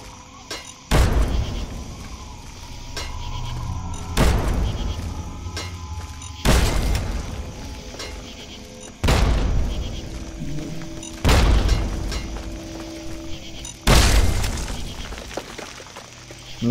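Six heavy frag mine blasts from Fallout 3 boom out at roughly even intervals of two to three seconds, each a sharp loud burst with a decaying rumble, over quiet game ambience.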